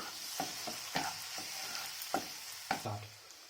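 Finely chopped tomatoes sizzle faintly in a pan as a spatula scrapes and stirs them in several quick, uneven strokes.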